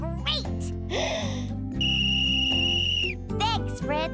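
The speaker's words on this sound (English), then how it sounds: "A whistle?" A children's toy whistle is blown in several short bursts, with rising and falling pitch and one long steady tone, over a bed of cartoon music.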